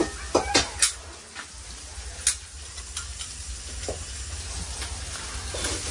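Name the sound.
cooking and frying in a village kitchen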